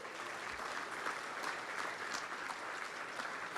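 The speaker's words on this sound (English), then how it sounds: "Let's clap it up for them." An audience at an anniversary gala applauds a sponsor, a soft, distant wash of steady clapping from many hands that continues evenly throughout.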